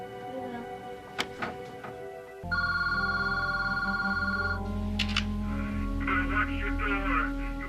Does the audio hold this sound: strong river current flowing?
no